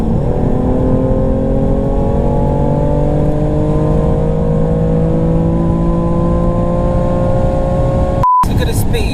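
A 2017 BMW F80 M3 Competition Package pulls hard from inside the cabin, its engine note climbing steadily and loudly through the revs for several seconds before a brief break, with voices talking over it.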